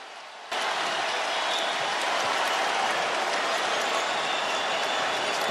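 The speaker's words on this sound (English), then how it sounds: "Listen to that crowd, man." A basketball arena crowd roars for the Nebraska Cornhuskers against the Iowa Hawkeyes as the game nears its close. Noise cuts in suddenly after a brief quiet, then holds as a dense, loud wall of cheering with no clear voices in it.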